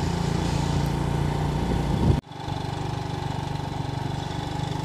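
A motorcycle engine runs steadily outdoors on a rainy mountain road, a loud, close, continuous drone. It breaks off with a sudden dip, then settles back into an even, throbbing idle.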